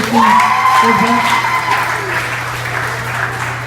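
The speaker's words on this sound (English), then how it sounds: "Give her a round of applause" Applause from a high school chapel audience, loud and steady throughout, with a voice speaking over it at the start.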